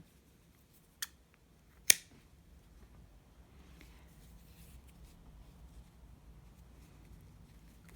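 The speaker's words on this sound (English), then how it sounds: "we cut the thread" Scissors snip crochet thread: two sharp, close clicks about a second apart, then quiet room tone.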